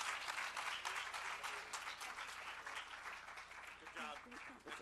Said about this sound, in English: a huge round of applause for Dr. Sania Nishtar and Bill Gates.